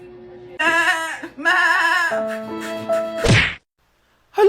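Goat bleating in a comedy skit: two wavering, nasal bleats close up, followed by a shorter lower call and a sharp thump, then a brief silence.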